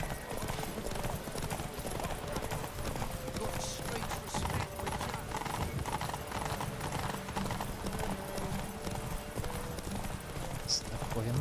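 Roach, the horse in The Witcher 3 video game, gallops with a fast, steady clip-clop of hoofbeats that runs throughout at moderate volume over a dense game background.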